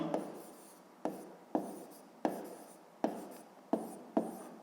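Pen writing by hand on paper during a fifth-grade maths exercise, quiet scratchy strokes in regular short bursts, each starting with a soft tap, about seven in a row.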